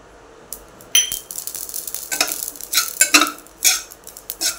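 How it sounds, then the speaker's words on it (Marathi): Poppy seeds dry-roasting in a pan over low heat for date and dry-fruit rolls, with light sizzling and scattered metallic scrapes and clinks of a spoon stirring, close up and without talk. "आपण खसखस भाजून घेतोय."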